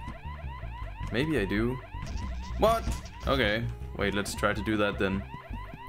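An alarm in the video game Horace wails in a repeating, car-alarm-like sweeping pattern beneath game music and sound effects, while a player talks over it.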